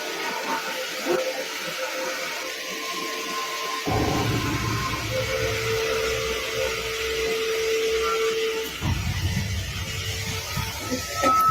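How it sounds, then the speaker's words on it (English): A vacuum cleaner runs on a hallway carpet, a steady broadband whir that shifts in pitch and intensity as it moves, with a few brief tonal whines over the continuous hiss. "casually vacuuming the hallway carpet"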